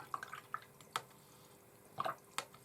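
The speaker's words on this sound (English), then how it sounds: "Now I'm going to rinse my brush" Quiet, sparse drips and small splashes as a watercolour paintbrush is rinsed in water, a few soft plinks in an otherwise hushed room.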